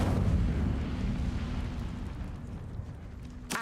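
Incendio fire spell in the video game Hogwarts Legacy: a loud whooshing, roaring burst of flame that slowly fades, with a small sharp crack at the very end, no talking.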